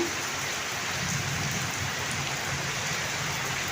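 Heavy rain pours steadily, a dense continuous hiss of drops on surfaces with no pauses or voices.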